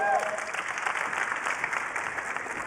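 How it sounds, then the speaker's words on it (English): Applause from a large keynote audience at the Cisco Live conference in Las Vegas, a moderate, slightly distant crowd clapping that stays fairly even for a few seconds. "applause for Kamal."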